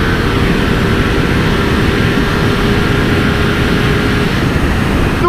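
A Ducati Streetfighter V2 mid-displacement motorcycle engine roars steadily under hard acceleration, a dense, loud, continuous drone with wind rush throughout.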